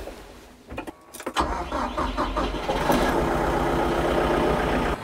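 A TYM 754 tractor engine cranks over and catches after about a second, then settles into a loud, steady rumbling idle as it warms up, close by and with no talking.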